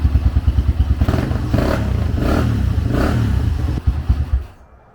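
A 2004 Honda CRF 150 dirt bike engine idles with a close, rapid thumping putter, revs briefly, then cuts off and falls silent near the end.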